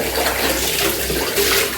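Cold water pouring and splashing during a bath, a steady close wash of running water that continues throughout without pause.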